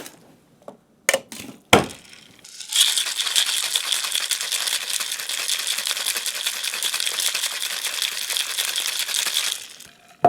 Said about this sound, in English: we ice this off and shake it